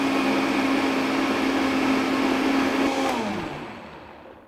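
A blender whirs loudly and steadily while mixing a smoothie with a teaspoon of flaxseed oil, running several seconds before the motor winds down and fades out.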